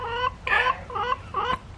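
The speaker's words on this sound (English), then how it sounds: "We got chicken over here heckling us." A hen that has just laid an egg clucks loudly and close by, four or five harsh, squawking calls in an uneven rhythm with short gaps between them.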